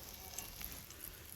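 An egg frying in butter in a well-seasoned skillet at a campsite gives off a steady, soft hiss of sizzling that runs throughout without pause.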